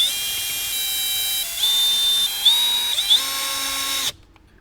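A cordless drill drives screws into a Jeep Wrangler dash panel, a steady high motor whine shifting pitch in steps as the screw seats, then stopping abruptly into quiet.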